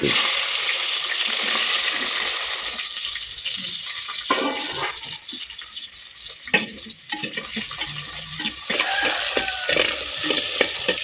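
Small onions, shallots, sizzle in hot oil after a mustard-seed tempering for greens, cooked over a wood-fired stove. A steady, close frying hiss runs throughout with occasional stirring scrapes and no speech.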